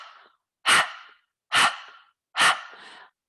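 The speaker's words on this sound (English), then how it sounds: "So breath of fire, you exhale and draw the belly in." Three forceful breath-of-fire yoga exhalations, rapid panting through an open mouth, come in an even rhythm about one per second, each a loud, close, breathy burst with a short tail and nobody speaking.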